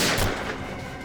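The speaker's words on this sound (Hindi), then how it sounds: "अभी भी गोलियां चल रही हैं" Gunshots fired inside a room in a crime drama scene, a sharp burst at the start then a dense ringing, reverberant clatter that stays loud and echoing throughout.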